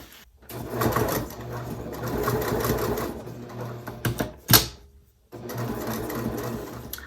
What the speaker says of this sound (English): I'm gonna go ahead and just stitch these sides down just to tack them in place